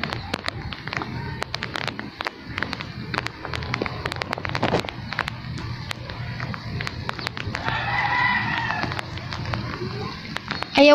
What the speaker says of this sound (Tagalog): So ngayon po kasi umuulan.